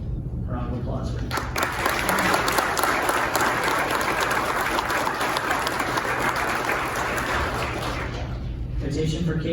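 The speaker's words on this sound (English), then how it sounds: "A round of applause for him." A large audience at a county sheriff's department promotion and awards ceremony claps loudly and continuously for several seconds, a dense, even wash of applause that swells, holds steady, then tapers off at the end.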